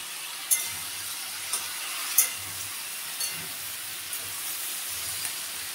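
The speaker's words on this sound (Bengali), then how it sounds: "এখন টমেটো আর বেগুনে দিয়ে দিলাম।" Tomato and eggplant fry in a pan for a mixed-vegetable shukto, giving a faint, steady sizzling hiss broken by a few small pops and spoon taps.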